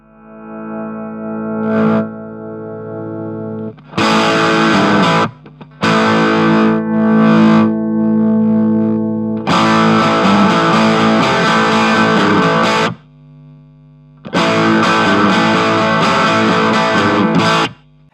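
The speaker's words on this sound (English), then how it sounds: "And we've got our overdrive tones there to work between." An electric guitar chord rings out through an amp's overdrive channel as the gain is turned up. Several long, distorted strummed chords are separated by quieter, cleaner sustained notes.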